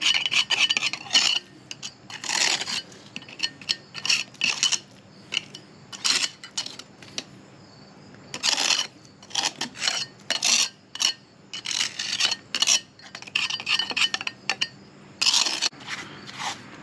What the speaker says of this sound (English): we're going to scrape out this devastated mortar and replace it with fresh good stuff